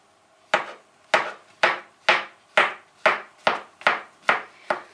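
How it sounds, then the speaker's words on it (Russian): A knife cuts mushrooms into thin slices on a board in nine crisp, evenly spaced strokes, close and fairly loud, with no talking. "Нарезаем грибы тонкими пластинками."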